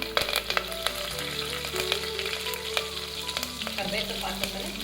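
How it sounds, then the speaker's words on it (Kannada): Cumin seeds and curry leaves hit hot oil for a dal fry, crackling in a steady, busy sizzle with a few sharper pops, while background music plays throughout. "ಇವಾಗ ಎಣ್ಣೆ ಕಾದಿದೆ, ಜೀರಿಗೆ ಹಾಕ್ತೀನಿ ಸ್ವಲ್ಪ"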